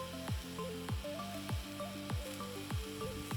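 Onion, garlic and king oyster mushrooms frying in avocado oil in a pot, a steady close sizzle with rhythmic stirring scrapes repeating roughly every half second.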